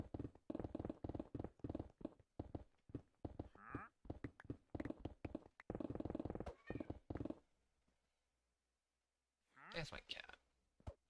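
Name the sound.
cat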